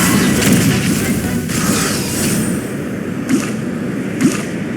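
Cannon fire booms in the Genshin Impact video game, several heavy blasts and crashes at uneven intervals over a dense, rumbling battle background.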